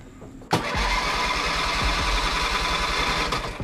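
A car engine cranks and catches after a boost from a Micro-Start XP-10 jump starter, first a brief starter whir, then a loud steady idle that runs on alone.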